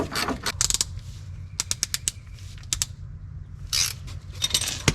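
A ratchet wrench clicks on the upper and lower strut bolts of a Chevrolet Tahoe Z55 autoride suspension, sharp metallic ratcheting bursts in short irregular runs, close and fairly loud.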